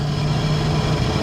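A car engine idles with a low, steady rumble and a constant hum, close and unchanging.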